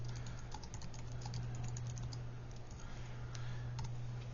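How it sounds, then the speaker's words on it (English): Keyboard typing while editing a WordPress page in a word processor-style editor: a steady run of light clicky keystrokes over a constant low electrical hum, close and fairly quiet, with no voices. "you want to insert your cursor and just start typing"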